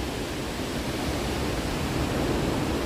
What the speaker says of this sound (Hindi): यहाँ पे देख लो बहुत ऊपर से झरना बह रहा है